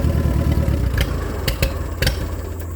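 A cold tractor engine idling as it warms up, steady low chugging pulse close by, with a few sharp metallic clicks and clatters breaking through.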